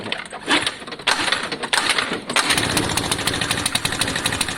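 A Lexmoto FMX 125cc motorcycle engine revs at wide open throttle, a loud, rough, buzzing roar held close by, rising after a few sharp initial blips.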